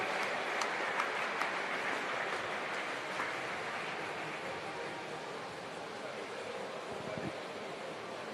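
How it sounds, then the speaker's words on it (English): Applause at a national swimming championships finals session for the 100 metre freestyle champion, a broad, distant wash of clapping filling an indoor pool hall, steady and gradually easing. "Round of applause, ladies and gentlemen."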